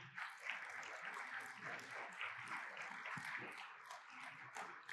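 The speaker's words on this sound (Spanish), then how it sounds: "Demos un aplauso al Señor" Faint, distant applause from a church congregation during a Spanish-language communion sermon, a steady wash of clapping lasting the whole five seconds without a break.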